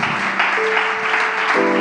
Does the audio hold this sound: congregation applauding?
yes